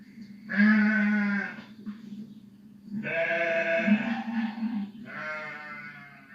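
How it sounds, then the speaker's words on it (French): A sheep bleats three times, loud and close, each call a long wavering baa separated by short pauses. "et là, c'était le mouton. Le mouton qui bêle."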